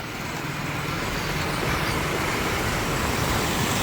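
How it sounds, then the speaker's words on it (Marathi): Congested road traffic in a Pune lane gives a dense, steady roar of engines and tyres, close and continuous, with no distinct horns or voices. "सर आता आपल्याला ट्रॅफिक लागलेलं आहे मित्रांनो."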